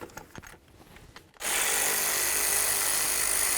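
A power tool whirs loudly and steadily at close range while removing the throttle body mounting nuts on a 1999-2007 Chevy Silverado, after a few seconds of quiet clinking.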